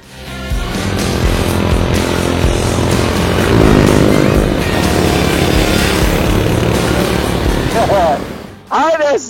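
A small motorbike engine drones steadily and loudly while riding, with a rising whine near the end after a brief dip, and voices talk over it.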